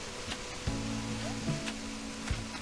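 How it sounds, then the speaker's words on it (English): A waterfall on an island in Animal Crossing: New Horizons gives a steady, soft rushing wash of water that carries on unbroken, with gentle game tones and small chimes sounding over it. "gonna see nothing but waterfalls on my island."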